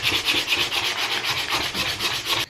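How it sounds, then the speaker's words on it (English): Sandpaper or a sander rubs over a wooden dowel plug set in a pocket hole, making about ten quick, even back-and-forth scraping strokes, close and steady, before stopping abruptly. "you can just use a piece of sandpaper or a sander"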